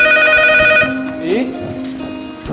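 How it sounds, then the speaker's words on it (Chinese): A mobile phone rings in a steady tonal pattern during a campus theater skit, then gives way to a rising voice and stage noise. "小林的手机，我应该帮他接吗？"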